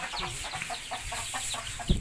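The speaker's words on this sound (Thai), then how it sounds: "อันนี้คือเล้าไก่พันนะครับ ผมเนี่ย โอ้ เอาพันพื้นบ้าน" Native Thai chickens clucking inside a backyard chicken coop, several soft, irregular clucks spread across a steady low background, with one brief louder knock near the end.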